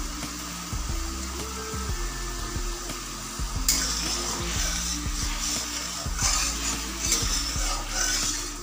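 Sugar syrup with a squeeze of lemon juice stirred in a pan, a steady low scraping and bubbling simmer with repeated spoon strokes, close and continuous, no talking.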